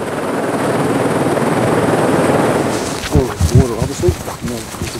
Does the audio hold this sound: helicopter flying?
yes